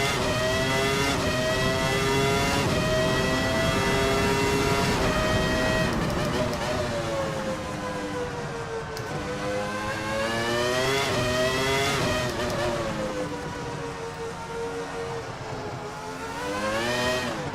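A Ferrari F310b Formula 1 car in the VRC racing game screams through high-pitched engine notes that rise and fall as the revs climb and drop through the gears, steady and loud throughout.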